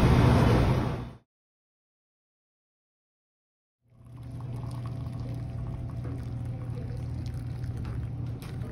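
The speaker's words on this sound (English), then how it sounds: "we're going to show you after that how we pour it in the cup" Amo Mazen tea poured into a cup, a close liquid stream heard briefly, then silence, then a steady pouring rush with a faint hum that continues to the end.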